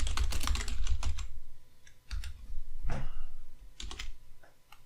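Quick bursts of typing on a computer keyboard, close and crisp, with clusters of rapid key clicks separated by short pauses and a few isolated taps, no voices.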